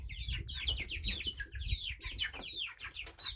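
Chickens, among them a young rooster, cluck in quick, repeated bursts close up, a steady run of short calls with faint rustling underneath.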